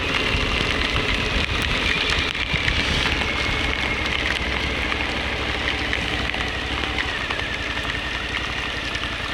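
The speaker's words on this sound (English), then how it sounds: "Get out of the freaking rain." Rain falls during a motorcycle ride in wet weather, making a dense, constant wash of noise mixed with a low engine rumble and wind, steady throughout with no talking.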